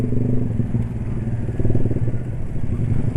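A 155 cc motorcycle engine idles close by in a steady, even drone, with a faint clatter and no big revs.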